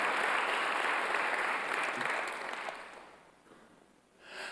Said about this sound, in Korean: 믿으시면 박수 한번 드세요